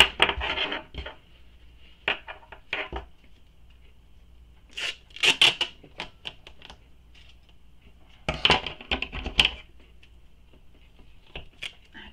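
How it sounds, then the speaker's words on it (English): Bursts of rasping, crackling tape being pulled and pressed down over metal prongs while sewing a backpack, in three separate clusters with quiet pauses between, close up and alone. "Then I'm going to apply a piece of tape over those prongs."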